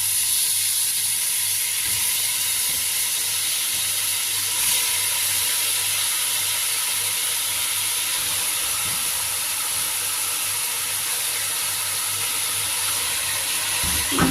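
Meat sizzles in ghee with garlic, ginger, onion and salt, a steady, even hiss that carries on without a break.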